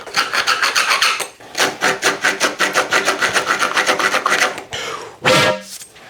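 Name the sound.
deburring a cut bike part, inside and outside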